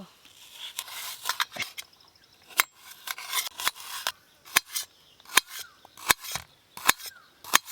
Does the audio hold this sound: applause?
no